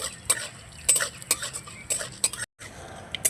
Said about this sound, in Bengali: কালো সর্ষেটা দিয়ে একটু ভেজে নেব